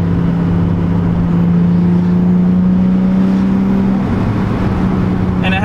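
A Nissan 350Z sports car engine and mild exhaust system drone steadily and loudly up close, holding a low, even tone that dips slightly in pitch near the end.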